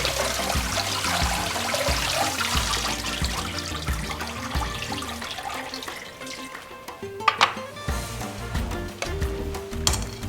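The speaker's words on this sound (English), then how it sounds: "Clean the seaweed by rinsing them in cold water." Dried seaweed rinsed in cold water, with running water and splashing sloshing steadily throughout, a short pause midway followed by a few sharper splashes and dribbles, close and moderately loud with no talking.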